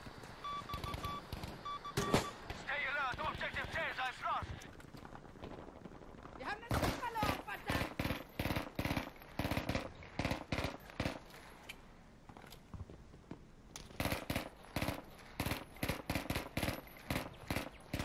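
Gunfire from a player's weapon in the World War II shooter Battlefield V, with repeated sharp shots and short bursts cracking through most of the stretch, mixed with game noise and a voice talking over it.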